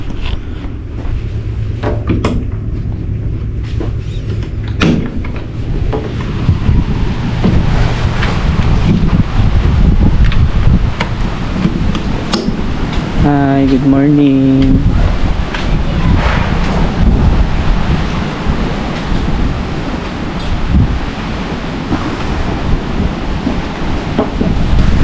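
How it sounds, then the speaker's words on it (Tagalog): Strong, storm-like wind at a beach roars and buffets the microphone throughout, with a brief engine-like drone partway through and a short spoken greeting near the start. "Medyo malakas yung hangin pala ngayon guys, parang may bagyo kasi."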